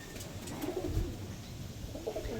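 Pigeons coo softly close by, with a few low throaty calls over faint background noise.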